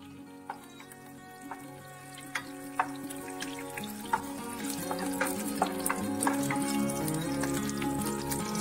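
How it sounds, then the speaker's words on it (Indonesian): Shallots, garlic and ginger stir-fry in hot oil for a chicken soup, a steady sizzle with light scraping stirs and occasional sharp utensil clinks, close and continuous with no talking. "Lalu masukkan bawang merah, bawang putih, dan jahenya. Kita tumis sampai harum dan layu."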